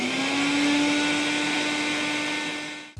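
An electric blender grinds mustard seeds with green chili and salt for mustard hilsa, a loud, steady motor whir with a high whine that runs unbroken and cuts off abruptly at the end.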